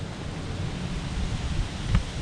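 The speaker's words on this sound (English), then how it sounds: "Wish it wasn't so windy," Strong wind buffets an open hilltop beneath a giant man-made star, a steady broadband roar with gusts swelling and easing, loud and close with no voices.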